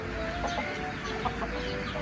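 Chickens clucking in short, soft, scattered bursts over a steady background hum.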